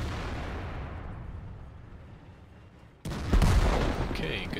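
Tank cannon fire in World of Tanks, a game shot on the Sacred Valley map, bursting in abruptly and loud over a low rumbling backdrop, then ringing out with a lingering roar and debris-like crackle.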